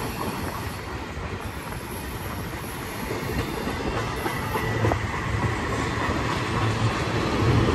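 Freight train with auto racks and empty containers rolling past at Blue Cut, milepost 65 on Cajon Pass, a steady loud rumble of cars and wheels that builds slightly, with faint wheel squeal and clickety-clack, no voices.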